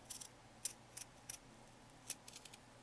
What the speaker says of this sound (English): you can take your regular straight scissors and then you can trim not quite to the stitching